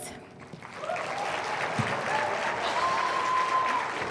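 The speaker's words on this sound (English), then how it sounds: "We are going to give her a warm round of applause again" Warm applause from an audience at a university talk, a steady wash of clapping filling the room for several seconds with a few faint voices and whoops threaded through it.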